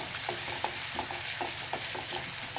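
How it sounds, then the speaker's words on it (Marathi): Onion and garlic sauté in hot oil over a high gas flame, a dense, close crackling fry punctuated by regular scraping strokes of a stirring spoon, with no talk. "आता इथे अर्धा मिनिटभर आपण कांदा व्यवस्थित परतून घेऊया"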